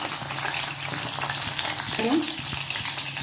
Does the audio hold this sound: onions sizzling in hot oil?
yes